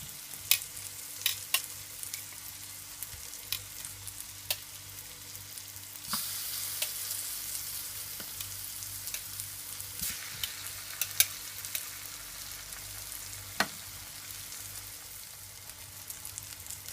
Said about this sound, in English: I'm just gonna allow them to fry for at least 3 minutes